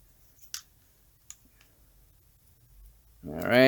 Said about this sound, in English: So this little strain relief, we're gonna cut that off because it's just gonna get in the way.